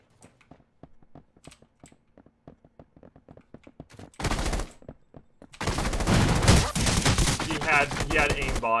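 Gunfire in the Rules of Survival battle royale game on a snow map: a run of sharp, evenly spaced shots, then a brief louder burst, then dense, sustained heavy firing that fills the end.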